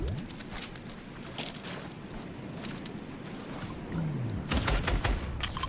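Sniper rifle shots and other gunfire in a Fortnite trio match, with sharp broadband cracks scattered through the stretch and a louder burst of shots near the end over dense game noise.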